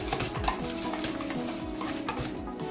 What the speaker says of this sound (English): With the help of a whisk, I'm just going to mix all the ingredients very well so that they are completely combined.